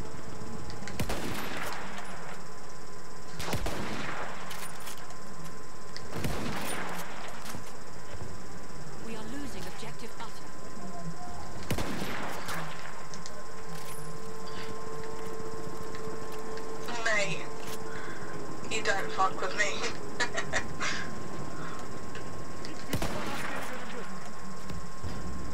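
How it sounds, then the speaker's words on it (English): Gunshots in the first-person shooter Battlefield 1, fired toward a sniper: several separated loud shots spaced a few seconds apart over a constant hum of battlefield ambience, with a brief mechanical rattle midway. "I'm firing just so many shots at this sniper,"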